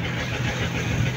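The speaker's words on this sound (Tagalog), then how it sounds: "Ang hina po ng andar ng ating makina mga idol" A boat's engine drones steadily and quite loudly while the vessel travels at sea, a continuous low mechanical rumble with no talking over it.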